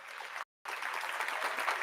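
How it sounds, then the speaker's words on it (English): A round of applause for a guest on a sports talk show, a steady wash of clapping at low level, broken by a brief dropout of total silence before resuming. "Let's give Jay Fona a round of applause"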